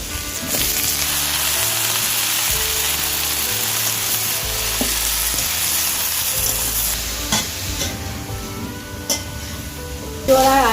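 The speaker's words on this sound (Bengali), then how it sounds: "দিয়ে এঁচোড়গুলো ভেজে নেব।" Raw jackfruit pieces and half-fried potatoes frying in hot oil in a wok, a loud continuous sizzle with stirring scrapes and clatters throughout, close up and with no talk.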